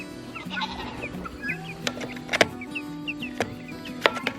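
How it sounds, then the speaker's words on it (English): Young Freedom Ranger meat chicken chicks peep and chirp close by, with scattered high calls over a low hum and a few sharp handling clicks and bumps, and no talking. "let me go start grabbing the Freedom Ranger chicks and bring them out so we can get weighing them"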